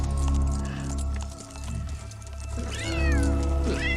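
A cat meows twice, a rising then falling cry followed by a shorter one near the end, heard fairly close over a low, steady musical hum with no talking.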